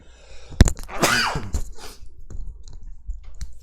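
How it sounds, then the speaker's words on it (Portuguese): A single sharp sneeze bursts out close by, followed by quiet breathing and small rustles. "Me deu uma rinite agora, um espirro, desculpe."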